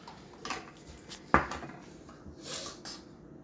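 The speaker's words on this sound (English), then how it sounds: "we're going to whisk this together" Dry baking soda and baking powder whisked in a bowl produce soft metal scraping and light clinks, with one sharp clink in the middle, all quiet and close.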